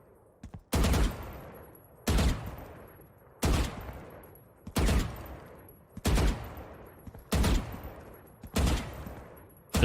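Gunshots in the video game Valorant while strafing come as eight loud, sharp single reports with short ringing tails, evenly spaced about a second and a half apart, with no voices over them.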